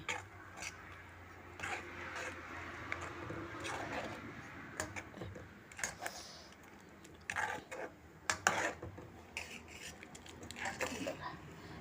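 A spoon scrapes and knocks inside a cooking pot while thick masala paste for Malvani chicken is stirred, irregular close clatters and thumps with someone talking over the stirring.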